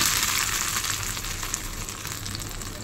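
Curry leaves and dried red chilies fry in hot oil for a chutney tempering, giving a steady, close, bright crackling sizzle with no talk.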